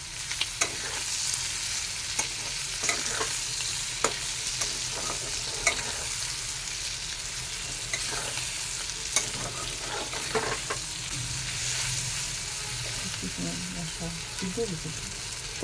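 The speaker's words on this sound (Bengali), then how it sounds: "দিয়ে এখন সব কিছু আমি ভালো করে মিক্স করে দেব।" Tomato, onion, garlic and ginger are stirred and fried in a pan, giving a steady sizzle with repeated scraping strokes of the spoon throughout, close up and fairly loud.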